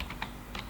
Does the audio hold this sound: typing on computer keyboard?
yes